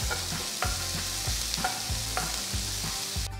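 Chopped onion, ginger and green chillies frying in a pan, a loud steady sizzle with regular rhythmic thuds and scrapes of a spoon stirring.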